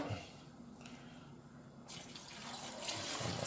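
Tap water runs and splashes into a container while making cho-cho porridge in a kitchen, a soft steady stream that grows louder and brighter toward the end.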